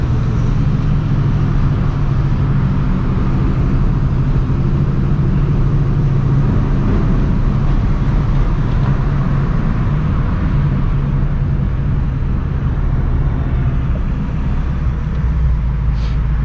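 Supercharged New Edge Mustang GT engine pulling hard through the gears on a road, a loud, steady, droning roar that stays at full volume throughout, with no voices over it.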